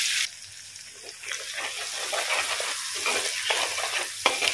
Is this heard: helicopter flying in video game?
no